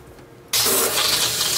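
Water gushes from a hose into the tank of a Lyko countertop hydroponics system, starting abruptly after a brief quiet moment and then running as a loud, steady rush.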